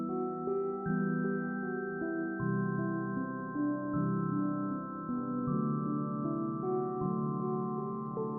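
A layered melodic beat, a low repeating line under a brighter counter melody, steady and full for several seconds with no voices.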